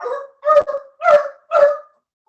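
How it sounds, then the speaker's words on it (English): A dog barks four times in quick succession, close and loud, the barks spaced about half a second apart with silence between them. "my dog started barking"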